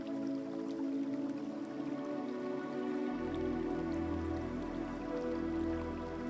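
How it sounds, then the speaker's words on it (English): Soft, continuous lapping and dripping of water with a steady wash of gentle rain-like texture, faint and calm, with a low rumble swelling in partway through; no voices. "You hear the distant lapping of water now."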